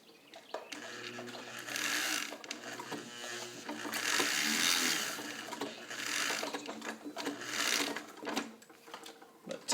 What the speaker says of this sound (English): Any of you who sew any leather on a sewing machine, you know that you really should put a little bit of pressure back down